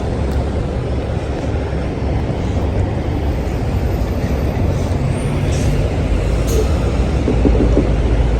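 A fire truck engine responding to an alarm at a parking ramp winds up and speeds up, a loud, continuous mechanical rumble that swells slightly toward the end.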